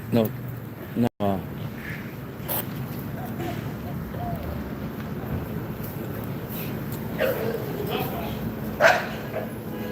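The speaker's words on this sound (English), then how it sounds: "Doggies are active." Dogs bark and yip briefly outdoors near an HEB store parking area in Austin, a few short bursts heard under steady talking and a constant background drone.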